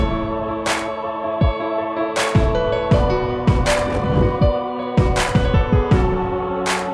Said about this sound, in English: I also added this clap beat, which is basically, I would say, a 909 clap, like very saturated